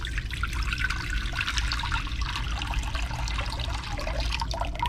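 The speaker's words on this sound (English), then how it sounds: "you're gonna fill it up with water about halfway." Tap water running steadily into a crock pot as it is filled about halfway, a continuous close splashing and trickling stream with no talk over it.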